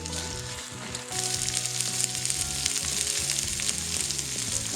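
Two large onions tipped into hot oil with ginger and garlic for a Kerala-style squid roast, a steady loud sizzle and crackle that swells as they hit the pan and keeps going close up.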